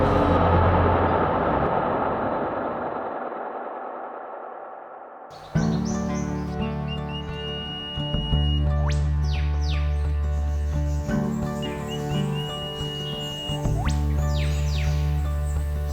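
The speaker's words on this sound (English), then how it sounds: "These brilliantly coloured king parrots and crimson rosellas are the jewels" King parrots and crimson rosellas calling inside a volcanic crater, bright whistles and chirps arriving in scattered bursts over a steady background hum, preceded by a brief rushing wash of noise at the start.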